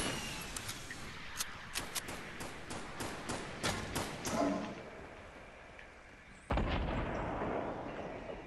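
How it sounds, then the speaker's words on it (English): Grenades going off in the Fortnite video game: a rapid string of sharp, booming blasts in the first half, then a heavier burst later over continuous game noise. "Launch some nades."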